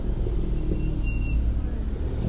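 A Seat car arrives at a car meet at a cafe, giving a continuous low engine rumble with steady traffic noise, fairly loud and close throughout with no pauses.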